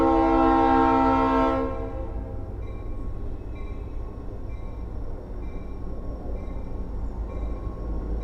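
A train horn blares loudly for the first second and a half, then cuts off, leaving the steady low rumble of the passing train rolling on to the end.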